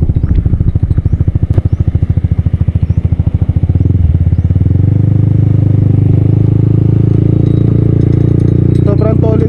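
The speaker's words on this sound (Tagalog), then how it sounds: "Parang X-Max nga naka open pipe. Ganun yung tunog niya." Rusi Adventure X 150 motorcycle fitted with an open pipe exhaust, its close, loud engine thumping in a rapid pulse before settling into a deep, steady rumble, with a voice talking briefly near the end.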